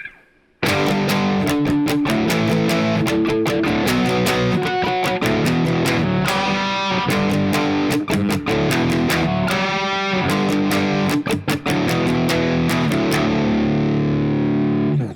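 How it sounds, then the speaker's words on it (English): A distorted electric guitar plays the chorus of a song with heavy driven power chords and rhythmic palm-muted stabs. It is loud, continuous and solo, with no talking. "The chorus will sound like this."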